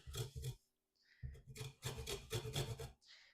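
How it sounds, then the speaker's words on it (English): Lime zest is rasped against a small hand grater in short, close scraping strokes that come in quick bursts with brief pauses between them. "You're just going to grate. I've got a small grater here"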